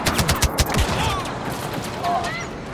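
Scout pistol gunfire in a Star Wars video game: a quick cluster of sharp blaster shots near the start, then quieter game ambience with a few faint electronic tones.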